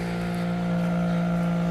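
A 2008 Toyota Matrix XR idles steadily after a cold start, with a loud, close, continuous hum and drone that may carry a slight exhaust leak.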